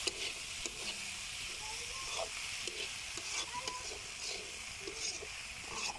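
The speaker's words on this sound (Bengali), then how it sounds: "আমি এটাকে ভালো করে ভেজে নেব।" Sliced bitter gourd with potato frying in a pan, a soft steady sizzle and hiss with occasional stirring scrapes, close and fairly quiet, no talking.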